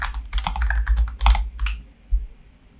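Fingers tap a computer keyboard in a quick, close run of keystrokes for almost two seconds, followed by a pause and a single last tap.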